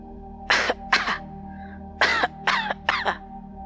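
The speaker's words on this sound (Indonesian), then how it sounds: "Ia terbatuk-batuk hebat" A series of harsh, close coughs in quick bursts, about six in all, with short pauses between them.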